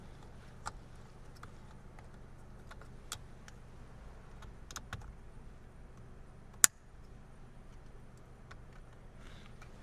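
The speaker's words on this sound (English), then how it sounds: "As long as we hear that clip, that means we're good to go." Plastic steering column cover on a Hyundai Sonata snapping into place, a few faint clicks and one sharp loud snap near the end against quiet background.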